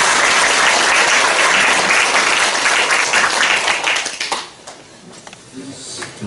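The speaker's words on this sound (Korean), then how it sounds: "우리 박수해 주시겠습니다." A congregation applauds at a church bishop inauguration ceremony, with loud, dense clapping sustained for about four seconds before thinning out into scattered claps and room noise.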